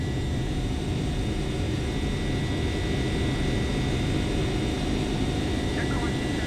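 A Flight Factor Boeing 767-300ER in the flight simulator X-Plane 11 gives a steady, even roar of jet engines, a constant broadband drone with no break.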